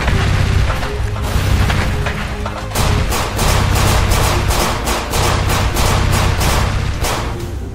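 Cinematic battle against alien invaders: repeated booming explosions and bursts of gunfire, loud and dense, with rapid percussive volleys intensifying in the second half, no voices.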